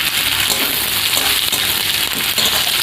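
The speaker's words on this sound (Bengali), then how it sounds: "তো পেঁয়াজটাকে একটু ভেজে নেবো ভালো করে।" Chopped onions frying in a pan for a quick flattened-rice khichdi, a steady dense sizzle with faint stirring clicks, close and continuous, no talk.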